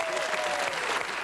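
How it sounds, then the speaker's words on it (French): Theatre audience applauding for Jean-Yves at a live show, a short, full burst of crowd clapping with a faint voice or tone running beneath it. "Applaudissements pour Jean-Yves."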